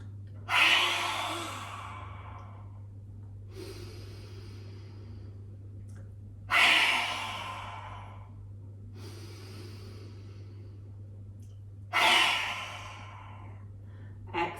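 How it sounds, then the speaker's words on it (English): Three forceful lion's breath exhales in a yoga session, mouth open and tongue out, each a loud breathy rush followed by a softer inhale, evenly spaced in a quiet room with a low steady hum. "if you'd like to do lion's breath, then really stretch the chest forward and stick your tongue out as far as it will go"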